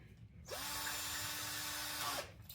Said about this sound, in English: and you'll drill the thing right back out of your board